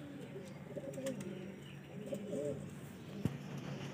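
Soft, low cooing of red-pearl pigeons repeats in a steady murmur, with a few brief higher chirps and a sharp knock near the end.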